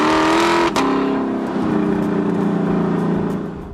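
A 2018 Lexus LC500's naturally aspirated engine revs loud and close, holding a high strained pitch, dropping sharply after a shift, then pulling steadily and fading slightly at the end.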